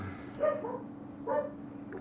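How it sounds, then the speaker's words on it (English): A dog barks from another room in a workshop during a build, two muffled barks about a second apart over a steady machine hum. "Sorry if you hear my dog going ballistic."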